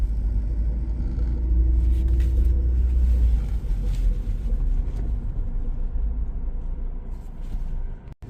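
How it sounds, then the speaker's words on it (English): A manual-transmission car shifted into reverse gives a steady low engine rumble and drone that eases off slightly before cutting away abruptly at the end, heard from inside the vehicle with no talking. "And now I'm moving into the reverse."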